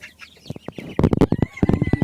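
Golden Sebright chickens clucking close by in a quick series of short, sharp clucks and squawks, alone without voices.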